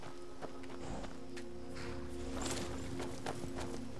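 A horse's hooves clop in Skyrim, with a steady series of close, rhythmic footfalls over a continuous background ambience.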